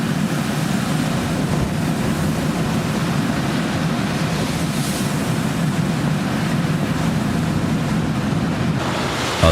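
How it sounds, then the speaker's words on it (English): Storm waves surge and wash across the deck of a loaded cargo ship in the Bay of Biscay, a continuous loud roar of rushing water with wind buffeting, steady throughout with no voices. "The waves passed through the entire deck of the ship."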